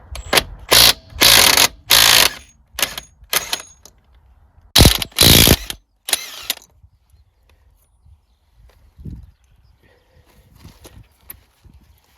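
Land Rover wheel nuts undone with a ratchet: loud bursts of rapid clicking in several separate runs, close up, followed by quieter handling sounds.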